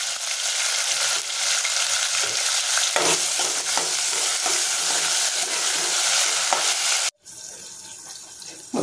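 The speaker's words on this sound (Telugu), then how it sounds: "స్టవ్ మీడియం ఫ్లేమ్ మీద పెట్టుకుని వేపించుకోవాలి." Chopped onions, green chillies and tomatoes frying in a pan over a medium flame for prawn biryani, a steady loud sizzle with scraping stirs, cutting off abruptly near the end.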